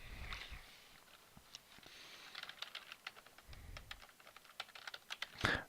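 Computer keyboard keys are tapped in a quick, uneven run of light clicks while a Control Delete shortcut is pressed, close by and quiet in a still room.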